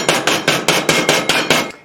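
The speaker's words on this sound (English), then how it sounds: "just put these into the baggie here, and you crush them, thusly" A measuring cup pounds cookies sealed in a plastic baggie, eight sharp, evenly spaced thuds in quick succession, loud and close with no talking.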